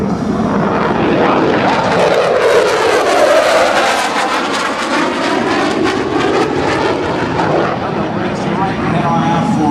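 Military jet aircraft roaring overhead at a Blue Angels homecoming airshow, with F/A-18F Super Hornet and legacy flight aircraft; loud, sustained engine noise swelling and sweeping past, with voices talking beneath it.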